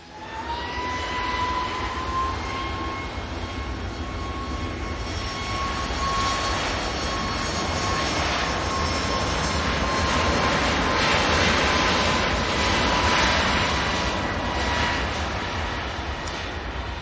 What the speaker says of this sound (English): Ryanair 737 MAX 8 now on the roll.